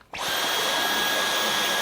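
A vacuum cleaner switched to turbo boost at its highest suction power kicks in abruptly after a brief silence, then holds a loud, steady, high-pitched whine with broadband rushing air.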